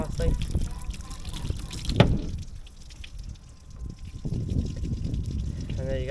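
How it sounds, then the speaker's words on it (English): Water from a hose splashes and trickles over a freshly cleaned trumpeter fish, a soft running wash heard close by under a voice. "Get the hose, run the hose down there, clean it out nicely."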